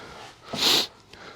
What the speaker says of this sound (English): nose is wanting to sniffle a little bit.